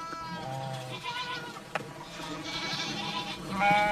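Goats bleating on a small goat-cheese farm in Argentina, several wavering calls from nearby animals spread across a few seconds, with a louder bleat at the end over a soft outdoor background.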